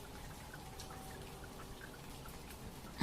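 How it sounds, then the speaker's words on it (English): Light rain patters steadily and softly outdoors, a quiet continuous hiss of scattered drops, faint and close, with a brief louder knock at the very end. "Yes, I'm aware that it's raining."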